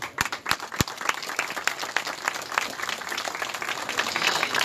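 Crowd applause at an outdoor religious procession for the Señor de los Milagros image, a dense, steady wash of many hands clapping that starts with a few sharp claps and swells, continuing loudly throughout.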